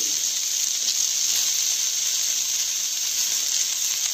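Cabbage hits frying potatoes in a hot pan and sets off a steady, loud, unbroken sizzle that keeps a bright hiss going for the whole stretch.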